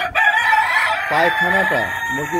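Chickens on a poultry farm cluck and crow close by, a rooster's drawn-out call followed by several short, loud clucking bursts in quick succession.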